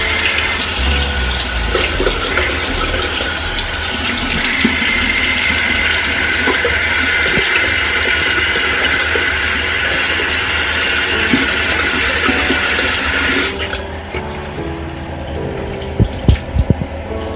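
Warm water runs steadily from a bathroom tap to soak a washcloth, a loud continuous rushing stream that cuts off near the end, leaving small drips and handling sounds.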